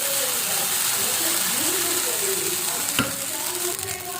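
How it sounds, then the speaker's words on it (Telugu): Uttapam batter sizzles and hisses steadily on a hot pan, close and loud, with a brief scrape partway through and faint voices in the background. "నేనైతే ఇప్పుడు పూతప్పం అయితే వేస్తున్నాను సో ఇక్కడ పిండి వేసేసి"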